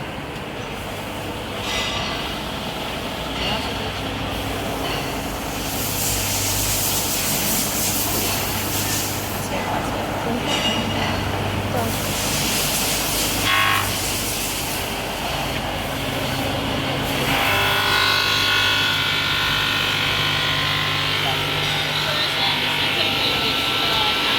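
An MLZ-9 glass edge polishing machine runs with its conveyor, giving a steady mechanical rumble and grinding hiss with some squealing and shifting tones throughout, while a voice speaks over it.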